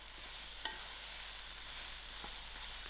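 Soya prawns frying in a pan, a quiet, even sizzle with an occasional small tap of a spoon, close and uninterrupted.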